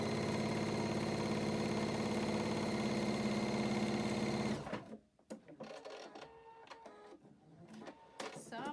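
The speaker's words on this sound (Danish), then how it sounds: "så jeg skal jo sy mange sømme her" A sewing machine stitches long seams down a broad fabric band at a sewing café, running loud and steady for several seconds before stopping abruptly, followed by handling noises and faint voices.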